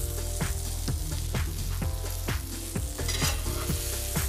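Burgers sizzle steadily in a pan while cooking, with a constant frying hiss and repeated soft scraping or stirring strokes at a regular pace, close and fairly quiet, with no talking.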